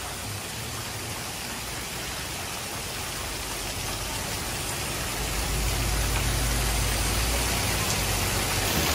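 Rain falls at night in Bangkok, a steady broadband hiss of drops on surfaces that swells slightly louder partway through, with a low rumble underneath and no voices.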